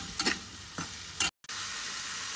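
Chicken mince mixture cooking in a pan, a faint steady sizzle broken by three quick scraping strokes of a spoon, with a brief dropout in the middle.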